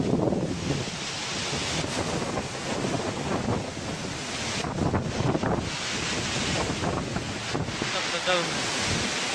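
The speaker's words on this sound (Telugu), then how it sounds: "వాటర్ మధ్యలో ఉన్న గాలి చల్లటి గాలి వస్తుంది." Steady wind roars near a waterfall at Gundala, a continuous broadband rush of air and falling water filling the scene at close range, with no talk heard.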